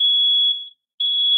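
A smoke alarm set off by bacon cooking gives a loud, steady high-pitched electronic beep for about half a second, falls silent briefly, then starts sounding again.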